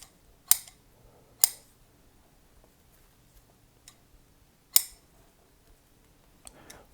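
Pruning shears cutting Chinese elm bonsai roots during repotting, a few crisp isolated snips spaced seconds apart, close and clear against a quiet room.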